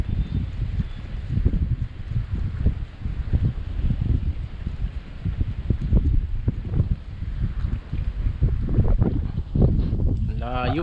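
Strong wind buffeting the microphone outdoors during crossbow hunting, low rumbling gusts that rise and fall throughout, with people talking over it.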